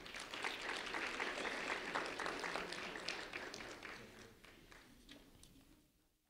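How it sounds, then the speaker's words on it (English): An audience at a sheriff's office student recognition event applauds a fifth grader with a full, close round of clapping that holds strong for several seconds, then gradually fades away. "a round of applause for Jamila, please"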